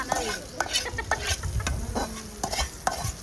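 Hot tempering is poured into raw tamarind pulusu, giving a close, crackling sizzle with sharp pops and stirring scrapes throughout.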